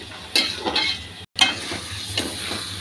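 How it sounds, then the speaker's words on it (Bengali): Potatoes sautéed in a spice mix in a pan, heard as a few rhythmic stirring scrapes over a low sizzle, close by with no voices and one brief dropout. "আলুটা একটু মশলার মধ্যে কষিয়ে নিই, তারপর শসাটাও কষিয়ে নেব।"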